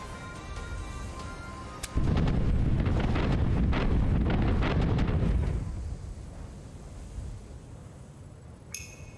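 Wind sweeping across the sea in the pirate video game Tortuga: A Pirate's Tale, a loud steady rushing gust that swells suddenly and runs for several seconds before easing into a quieter airy hiss.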